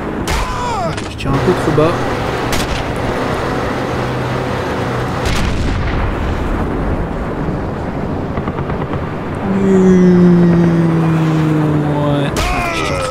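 Gunfire in the sniper video game Sniper Elite: sharp broadband shots at the start, near 5.5 s and near 12.5 s, set against constant loud battle rumble, with someone talking over it.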